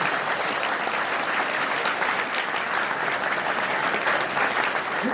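A seated crowd at an education and values lecture breaks into sustained clapping, a thick, even wash of many hands that stays loud and unbroken from start to finish.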